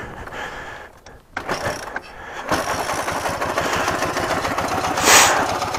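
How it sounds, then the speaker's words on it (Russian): Ural motorcycle engine being started outdoors on a hillside, with a brief cranking effort followed by the engine catching and settling into a steady, close, throbbing idle. "Так, запускаем мотор."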